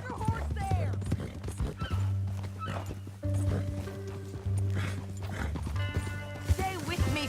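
Horse hooves clopping at a walk with a whinny in the video game Red Dead Redemption 2, a dog barking now and then, and voices speaking in the background.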